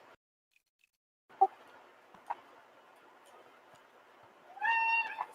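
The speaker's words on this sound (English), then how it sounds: "I heard that. that's my cat," A house cat meows near the end, a short tonal call rising from quiet room tone, preceded by a couple of faint ticks and taps.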